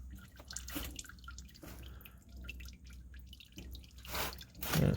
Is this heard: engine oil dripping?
yes